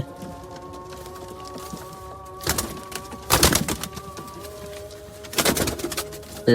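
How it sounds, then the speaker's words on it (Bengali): A caught pigeon gives soft, steady cooing nearby, broken by a few louder bursts of rustling or flapping. "গাইজ একটা পায়রা ধরে নিয়েছি"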